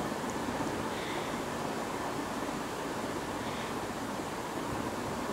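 Water surging and crashing onto the shore near huts during a family picnic, a steady, dense wash of surf with wind noise, continuous and fairly distant without distinct individual breakers.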